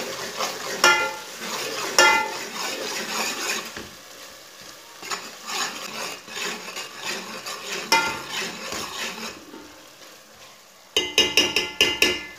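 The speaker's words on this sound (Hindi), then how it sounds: "एक चमच अदरक का पेस्ट डाल लेंगे इसे भी एक मिनट तक पका लेंगे" Ginger paste frying in a pot with mutton pieces, with steady sizzling under repeated scraping and clanking from a spoon being stirred. A burst of sharp metallic taps comes near the end.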